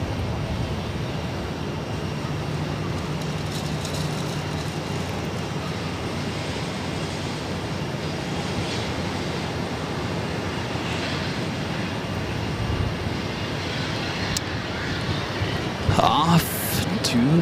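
A JetBlue jet airliner departs Boston Logan bound for Detroit, its engine roar a steady broadband rumble throughout, heard from a distance with a brief louder swell near the end, under radio chatter.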